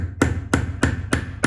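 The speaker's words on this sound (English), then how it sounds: "Grab your hammer" Five evenly spaced hammer taps, about one every third of a second, drive a screw into a timber stud wall during stud wall and plasterboard work; the sharp strikes are close, crisp and heard alone.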